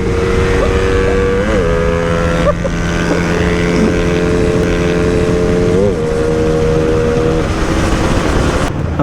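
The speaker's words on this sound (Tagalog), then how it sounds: "Ako naka full throttle na." Motorcycle engine held at full throttle on a long straight highway run, a steady loud drone with shifting tonal whine and constant wind buffeting throughout, no talk over it.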